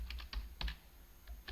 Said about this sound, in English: I'm typing the value in